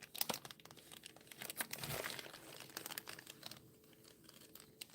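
Gold paper trim for a handmade card crinkles and rustles as it is handled, a run of close, soft crackles and crisp snaps without talk.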